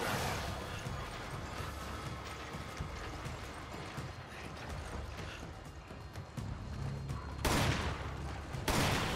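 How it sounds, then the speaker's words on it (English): Rapid gunfire from a Gatling gun in the video game Resident Evil 5, a dense continuous rattle of shots with loud bursts near the end, mixed with game effects. "My big ass Gatling guns."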